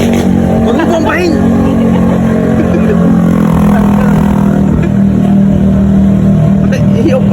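Loud vehicle engine running with its muffler removed, a harsh, steady low rumble that surges and revs throughout, with people shouting and talking over it.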